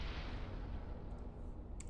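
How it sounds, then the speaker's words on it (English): An explosion in the strategy game Planetary Annihilation: Titans, a faint, muffled boom that fades quickly into a low rumble, with a couple of small distant pops near the end. "Did you see that explode?"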